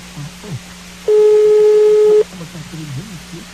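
A telephone busy tone after a dropped call, during a phone prank: one loud steady tone lasting about a second, with voices talking before and after it.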